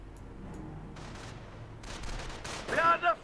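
Bursts of rifle and machine-gun fire crackle in a Company of Heroes battle, scattered volleys rising to sharper, louder shots near the end, with faint game voices mixed in.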